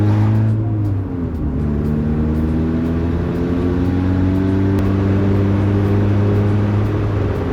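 A 1996 Honda Del Sol with Tein coilovers driving along, its engine drone steady and loud from inside the cabin, the pitch dropping at a gear change about a second in, then holding as it cruises.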